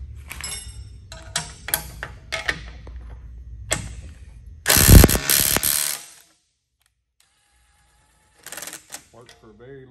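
A Mac Tools 1/4 inch impact wrench hammers on a bolt in a short, loud burst after some clicking and handling noises. Someone talks around the work, and the clip ends quietly.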